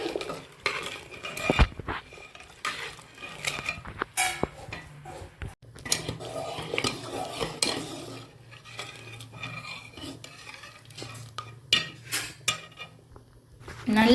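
Rice and lentil pongal is stirred in a pot with a metal spoon, which scrapes and clinks against the pot in irregular strokes. A faint sizzle sits underneath, and the clinks are close and fairly loud.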